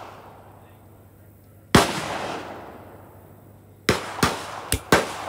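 Rifle shots from a CZ 457 firing Lapua CenterX rounds outdoors: one sharp, loud report followed by a lingering tail, then after a pause a tight cluster of four quick, close cracks.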